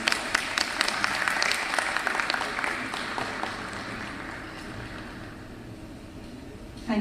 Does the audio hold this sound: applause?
yes